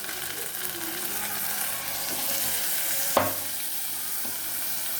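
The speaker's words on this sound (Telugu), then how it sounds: "కొంచెం పుదీనా, ఇప్పుడు రైస్ వేద్దామండి." Rice tipped into a hot pan with mint, sizzling steadily throughout with a sharp clack of a spoon against the pan near the middle as it is stirred; no voices.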